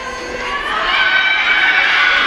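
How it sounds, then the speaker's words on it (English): Temple gymnastics team cheering for a score at a college meet, a crowd of voices swelling into sustained shouts and whoops that build and hold. "a big cheer comes up from the Temple team for the score for Brooke Donabedian"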